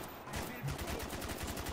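Rapid automatic RPK fire in a Call of Duty Zombies match, a steady stream of evenly spaced shots running through the whole stretch, fairly loud and close with faint background game noise.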